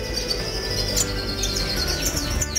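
Goldfinches in an aviary chirping and twittering continuously, a busy chorus of high bird calls layered over low room rumble, with no talking.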